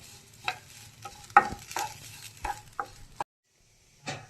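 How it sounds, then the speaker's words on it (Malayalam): Grated coconut roasting in a pan over a low flame, soft intermittent scrapes of stirring with a faint sizzle, quiet and close, ending in a short pause before one more stir. "ഫ്ലെയിം കുറച്ചിട്ട് വേണം നമ്മൾ തേങ്ങ വറുക്കാൻ വേണ്ടിയിട്ട്"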